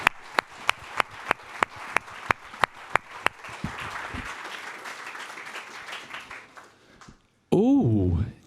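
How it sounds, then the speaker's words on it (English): A room of attendees at a London DevOps meetup claps, opening with a dozen sharp evenly spaced claps before a brief wash of applause fades, then voices are heard at the end. "let's give a big round of applause for Queen Elizabeth II"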